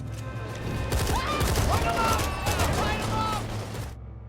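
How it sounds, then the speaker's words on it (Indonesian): Gunfire crackles in bursts during a shootout in a horror film, mixed with film voices and a narrator speaking over the scene. "Di tengah baku tembak datanglah Bravo bersama rombongannya."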